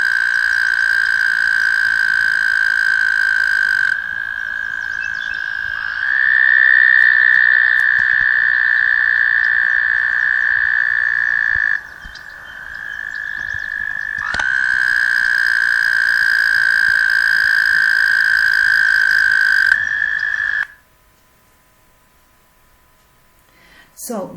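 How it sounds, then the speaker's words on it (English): American toads calling at a pond, loud, close, sustained high trills that overlap and swap in and out for about twenty seconds before falling quiet. "this is an American toad"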